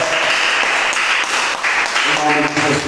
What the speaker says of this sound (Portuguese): Pode aplaudir o Senhor por esta palavra.